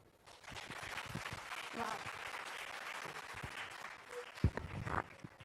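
A crowd at a corporate annual event gives a speaker a full round of applause. Dense, sustained clapping fills the room and swells near the end, with a few louder claps standing out.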